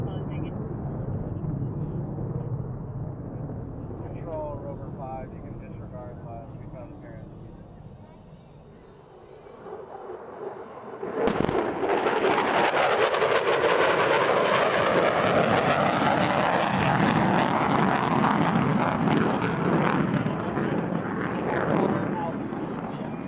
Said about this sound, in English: a B-1B Lancer arrived on the scene at low level in the close air support role